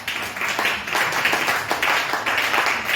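A church congregation applauds the Lord with steady, sustained clapping from a crowd filling the room.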